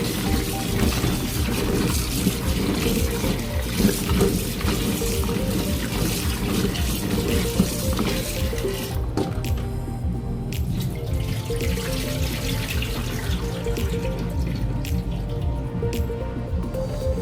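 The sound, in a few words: washing green plums under running tap water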